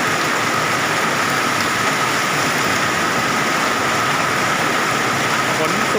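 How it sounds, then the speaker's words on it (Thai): Torrential rain during a summer hailstorm in Khamcha-i, Mukdahan, Thailand, a loud steady wash of downpour drumming on surfaces close by, with someone speaking over it. "ฝนสุดๆเลยครับฝนก็"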